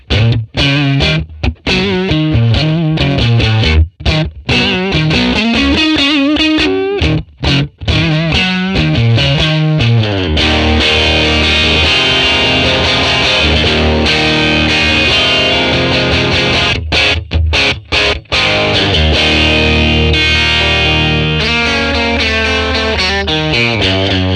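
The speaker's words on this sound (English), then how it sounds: "I'm using the crunched fat setting, DI, no reverb, and we're gonna see how this sounds" An electric guitar plays through a ToneX capture of a 1957 Fender Tweed amp on a crunch setting, recorded DI without reverb. Loud, distorted chords and riffs ring out continuously, with brief stops between phrases.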